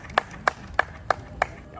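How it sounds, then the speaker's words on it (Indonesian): Five sharp claps in an even, steady rhythm, fairly close, with quiet room noise between them. "Tepuk tangan semuanya."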